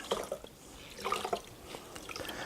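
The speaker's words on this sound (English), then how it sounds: "take most of the water out of the rag, but not all of it." Water dripping and trickling into an ice cream pail as a wet rag is wrung out over it, a close series of irregular small splashes and drips.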